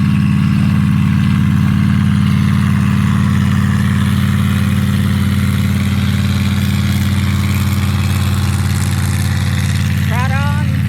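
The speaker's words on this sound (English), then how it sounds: "Yes, it's that horrible motor." A harsh motor engine drones loudly and steadily for the whole stretch, a continuous low hum holding the same pitch, with a brief voice cutting in near the end.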